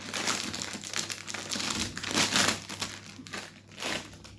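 A crinkly plastic bag of supermarket snack crisps is opened and handled up close, with continuous crackling and crumpling in bursts over a low steady hum.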